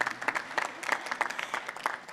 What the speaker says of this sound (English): We'll keep applauding.